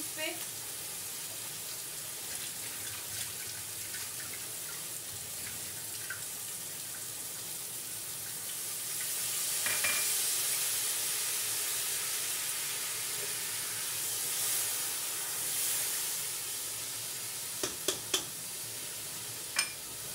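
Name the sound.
sizzling cooking vegetables after sprinkling water in pan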